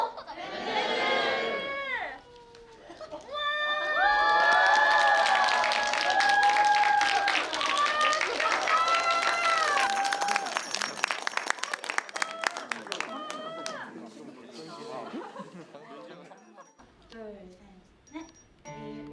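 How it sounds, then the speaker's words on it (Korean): Applause from an audience at a Korean amateur band's stage performance, with broad clapping, crowd chatter and whoops rising after a quiet start, then tapering away near the end. "도와주셨다면 박수 보겠습니다."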